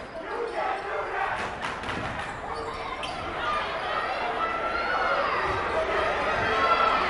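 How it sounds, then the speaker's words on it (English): Two rival crowds cheer back and forth at a high school boys basketball game between East Hampton and East Catholic, a sustained noisy roar rising toward the end, with ball bounces, footfalls and talking over it. "you can hear the two cheering crowds going at each other"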